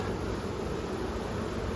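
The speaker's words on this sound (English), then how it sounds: "Lots and lots of bees drawing comb" Honeybees drawing wax comb in a hive give off a soft, steady, dense buzzing hum, faint and unbroken with no voices over it.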